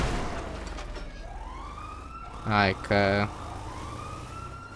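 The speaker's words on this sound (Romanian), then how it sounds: "Vine poliția." Police car siren in the FiveM roleplay mod of GTA V: a wailing tone rising and falling steadily throughout, with a person speaking briefly over it.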